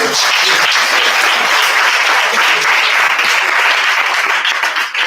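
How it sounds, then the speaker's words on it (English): An audience at a community dialogue meeting in Bed-Stuy breaks into loud, sustained applause, dense clapping that holds steady throughout and fades slightly at the end. "I want you guys to give Marsha a round of applause"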